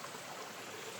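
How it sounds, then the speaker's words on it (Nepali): Water flows steadily along an irrigation channel in an areca nut garden, a continuous rushing wash with no breaks over its short length and no voices. "पानी धेरै नै आएको रहेछ कुलोमा।"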